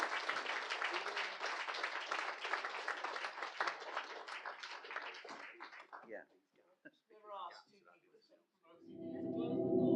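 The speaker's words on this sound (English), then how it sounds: "can we have a round of applause for our guests as they come into the auditorium?" An auditorium audience claps for guests entering a conversation event with an actor and writer. The dense, loud applause runs for several seconds, then thins out and fades into quiet before a low hum rises at the end.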